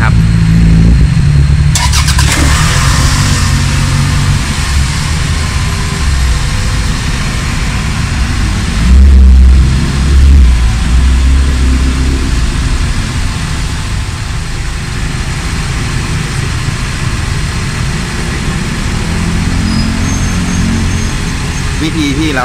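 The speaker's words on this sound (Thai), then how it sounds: "จะสตาร์ทรถนะครับ" Toyota ACV40 car engine starting after an alternator repair, a loud close crank catching into a steady rough idle that continues throughout, with someone speaking over it.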